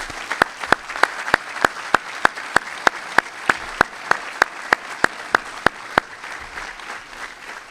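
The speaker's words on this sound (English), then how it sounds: "I think all of you deserve a round of applause." Sparse, evenly spaced claps ring out at a commissioning ceremony for Army ROTC graduates, each sharp and distinct over a faint room background and tapering off near the end.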